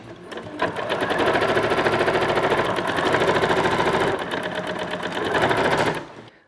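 A sewing machine stitches fabric along an armhole seam during a quick clothing alteration, a steady close whir running unbroken for about six seconds before cutting off, with no talking.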